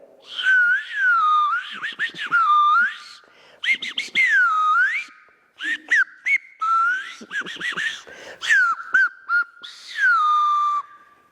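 A person whistles a melodic imitation of birdsong, sliding phrases in short bursts separated by brief pauses, close and clear.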